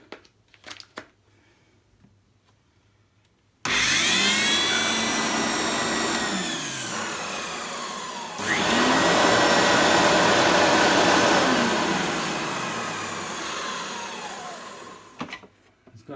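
A green Turbo Power Plus vacuum cleaner is switched on and runs with a steady loud whirring roar that rises to a higher speed midway, then winds down and stops, heard close and alone.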